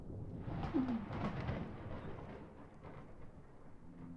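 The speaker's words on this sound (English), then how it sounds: "maybe we can start to make our way back if the thunderstorms continue" Low, rolling thunder from a thunderstorm rumbles continuously for several seconds, swelling early and then fading to a steady dull roar with no voices.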